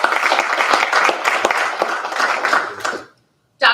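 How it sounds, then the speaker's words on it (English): Audience applause at an evening knowledge event, a dense burst of many hands clapping loudly and close, sustained for about three seconds before stopping abruptly, followed by a brief fresh burst. "Let's give her a round of applause."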